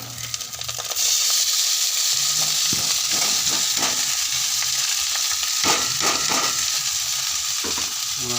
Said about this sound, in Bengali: এখন আমরা দিয়ে দেবো পাস্তাটা আমরা ঢেলে দেবো আস্তে আস্তে